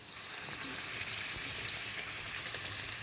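Luchi flatbread deep-fries in hot oil with a dense, continuous bubbling sizzle, loud and close. It holds steady throughout without speech.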